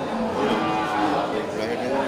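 A drawn-out moo from a young male water buffalo carries over a noisy animal market crowd, with voices murmuring in the background.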